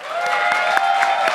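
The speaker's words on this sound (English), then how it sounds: "Give yourself a round of applause." Live audience at Momocon 2015 in Atlanta clapping together, a dense burst of applause that stays even and continuous for a moment.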